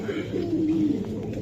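A khoira gola pigeon, an old original breed, gives a single drawn-out low coo, close and clear over faint background noise.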